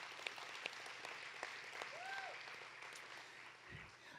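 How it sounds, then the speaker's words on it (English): Audience applause for the venue staff during an annual association meeting, a soft, steady wash of scattered clapping held at a moderate distance for about four seconds. "let's give them all a round of applause"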